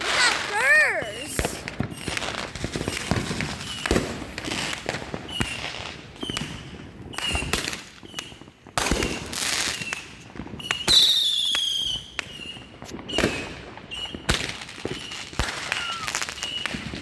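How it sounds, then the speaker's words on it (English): Fireworks and firecrackers burst in a street, with rapid sharp cracks and pops piling up one after another, a few whistling squeals rising among them, and voices calling out in between. "So many fireworks."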